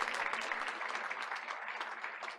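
Applause from the audience at a school board of education meeting honoring staff, a steady moderate patter of many hands clapping at some distance.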